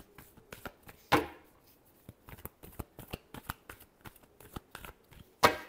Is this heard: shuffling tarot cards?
yes